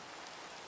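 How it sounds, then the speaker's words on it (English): Steady rain in the video game Minecraft hisses evenly and close, a dense patter with no breaks and no voices over it. "Oh, it's raining."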